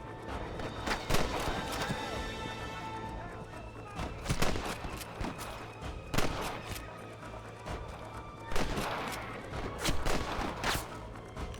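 Gunfire crackles through a Red Dead Redemption shootout, several sharp shots and short bursts landing every couple of seconds over a steady game backdrop while someone talks over it.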